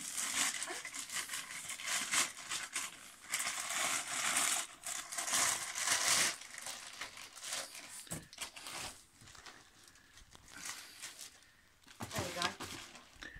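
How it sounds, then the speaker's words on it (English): Polythene bag crinkling and rustling in bursts as a ZX Spectrum +2 computer is packed back into its plastic wrapping, close and busy, with people talking intermittently over it. "if you could pop that back into its polythene"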